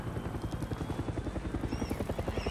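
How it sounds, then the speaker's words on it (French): A helicopter arrives in the video game Far Cry 6, its rotor beating in a loud, steady, rapid chop that fills the scene. "il y a un hélicoptère qui arrive au même moment"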